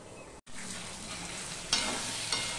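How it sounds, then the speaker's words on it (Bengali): Masala with ginger and tomato fries over low-to-medium heat, a steady close sizzle after a brief dropout, with a couple of louder scraping strokes from stirring and no talk. "সম্পূর্ণ মিশিয়ে নিয়ে কষাতে থাকবো।"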